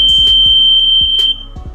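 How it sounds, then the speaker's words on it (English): A shrill electronic buzzer on an Arduino smart blind stick sounds one continuous high tone when an obstacle is detected, then cuts off, with a few soft thumps and clicks nearby. "And constant buzzer beep will turn on."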